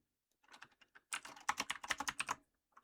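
Someone types on a computer keyboard, starting with a few scattered taps and then a quick, close run of clattering keystrokes before it stops.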